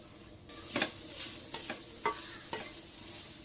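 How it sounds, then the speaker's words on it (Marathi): Soaked semolina (rava) is sautéed in ghee in a pan: soft sizzling with several sharp spoon scrapes and stirring knocks, quiet and close, no talk. "जो रवा आपण भिजत घातला होता तो त्यात टाकून घेऊ आणि हे आता छान परतून घेऊया।"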